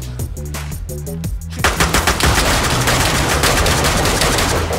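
Rapid gunfire from a firefight in the video game DayZ, a fast rhythmic burst of loud shots that thickens into dense, continuous shooting with overlapping reports and no talking.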